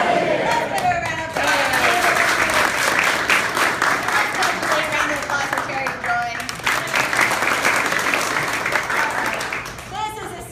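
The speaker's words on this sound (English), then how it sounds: "Let's give a round of applause for Charity Joy." Loud, sustained crowd applause at a student showcase performance, dense clapping with voices and cheers mixed in, easing briefly midway before swelling again and tapering off.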